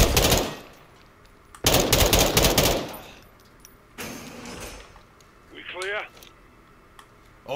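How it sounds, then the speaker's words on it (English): Several heavy shotgun blasts from the Modern Warfare 2 campaign, loud booming bursts spaced a second or two apart, with brief quieter gaps and a voice heard between shots. "This a shotgun, bro."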